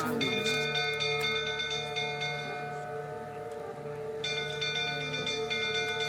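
Bell tolling in The Witcher 3 video game, a repeated ringing with long sustained metallic tones, steady and fairly loud, struck again about two thirds through over a low background hum.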